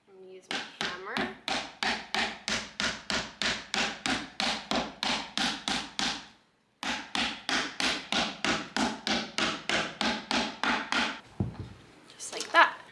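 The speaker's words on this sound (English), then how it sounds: "And then we're gonna press it into place. I'm gonna use my hammer." A hammer taps a wooden beehive part into place, delivering two long runs of quick, evenly spaced knocks, loud and close, separated by a brief pause and ending with a few softer rubs.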